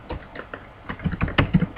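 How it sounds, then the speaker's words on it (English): Keystrokes on a faulty computer keyboard, a run of uneven taps and clacks, sparse at first and then denser and louder near the end, close by with no talk. "See, my keyboard having little bit problem,"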